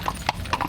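Seasoned horses pulling a motor-assisted carriage carrying a 125 kg load: a few crisp hoof clip-clops on hard ground, close by and fairly quiet, over a low background hum.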